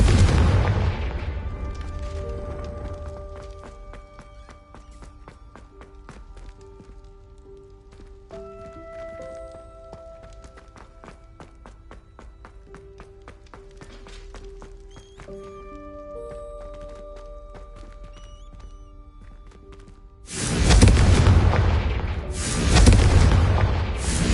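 A Confringo fire spell in Hogwarts Legacy goes off as two loud, heavy booming blasts near the end, after a long stretch of quieter tonal game music and ambience.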